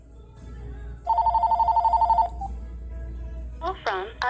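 Outgoing call on a phone: one ringback burst of rapid, warbling electronic tone lasts about a second, then goes quiet, followed by a short automated voice speaking near the end.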